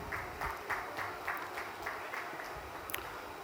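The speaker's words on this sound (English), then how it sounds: "Give a huge round of applause." A conference audience gives a round of applause, steady and moderately distant clapping with soft rhythmic pulses over room noise.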